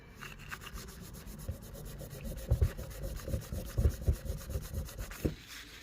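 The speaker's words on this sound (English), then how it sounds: "All I'm doing literally is giving it a rub with this blue roll, and it should actually just come off." Dry blue paper roll rubbing old factory silicone sealant off a Ducati dry clutch cover, a close, steady scrubbing with quicker, louder strokes toward the end, no voices.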